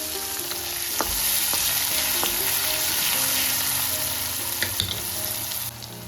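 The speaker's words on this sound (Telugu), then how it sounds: "ఆనియన్స్ ఇలా కట్ చేసుకొని ఆనియన్స్ వేసుకుందాము" Chopped onions frying and crackling in hot oil in a pan for a cucumber curry. A steady, close sizzle runs throughout, with a few sharp stirring clicks and scrapes and no talking.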